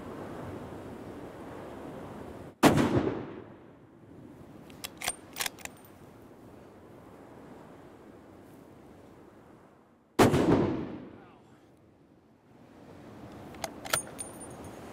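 Two loud, sharp rifle shots at an Alaskan bear, spaced several seconds apart outdoors, each with a long ringing tail and metallic clinks afterward, heard over a steady background hiss.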